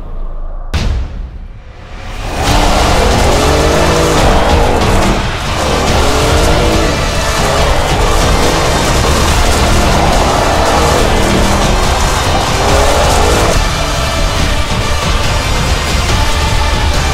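An Audi RS7 driven hard on gravel, a loud engine roar with tire scrabble and spraying stones that rises sharply after a quiet opening second and stays steady and close throughout.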